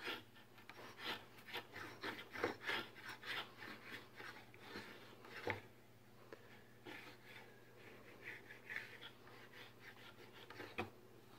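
Hand router plane cutting a dado along the edge of a wooden board, a series of short scraping strokes at a steady pace, faint and close, with a low steady hum underneath.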